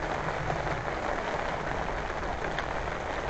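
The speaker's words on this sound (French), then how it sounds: "Il pleut." Rain falls steadily at a fishing pond, a dense even hiss of drops hitting surfaces nearby, constant and unbroken for the whole stretch with no talk.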